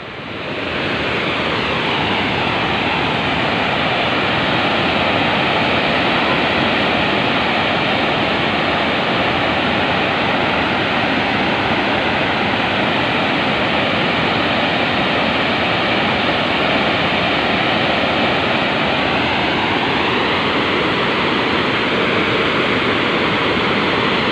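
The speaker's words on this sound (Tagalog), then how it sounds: "Lakas ng lagaslas ng tubig dito mga lods." Loud rushing water roaring continuously and steadily, a dense unbroken wash of sound that dominates from start to finish with no talk.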